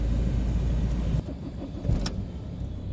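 A Skoda Laura engine, on a used car that needs a long crank to start, runs with a steady, close, low rumble that drops in level partway through, with a brief mechanical whir near the end.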